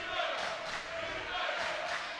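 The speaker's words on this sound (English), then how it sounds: "The crowd's into it." Basketball arena crowd at a Bethune-Cookman Wildcats versus Alcorn State Braves game: steady, loud roar of cheering spectators filling the hall, with a commentator's voice talking over it.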